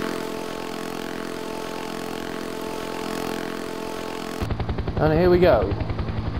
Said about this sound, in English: the helo will take off,